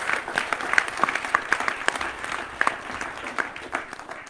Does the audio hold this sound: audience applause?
yes